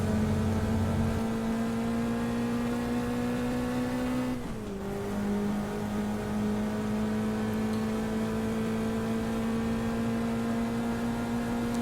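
Race cars lapping Monza in a racing video game, a loud continuous engine drone with steady harmonics that dips briefly around a gear change before settling into a sustained high-revving whine.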